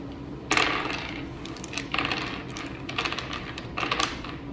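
Dice clatter and tumble across a surface in several short bursts, each rattling briefly before settling; close and fairly quiet, no talking.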